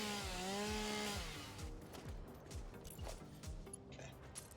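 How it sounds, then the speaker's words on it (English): A chainsaw in the factory-building video game Satisfactory revs with a rising, falling whine, then settles into a quick run of rhythmic cutting pulses, loud and close with no talking. "Chainsaw this down."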